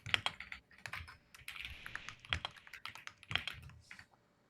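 Rapid keystrokes on a computer keyboard as notes are typed during a coding interview, close and clear in uneven bursts with short pauses, no voices.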